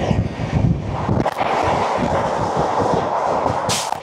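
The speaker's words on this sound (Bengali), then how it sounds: "3 থেকে 4 সেকেন্ডেরও কম সময় লাগে বন্দে ভারত যখন এই ট্রেনকে পাস করে" A Vande Bharat Express, train 22425 from Ayodhya Cantonment to Delhi Anand Vihar, rushes past another train in a loud, steady roar with rattling clatter and wind buffeting, heard close up for a few seconds.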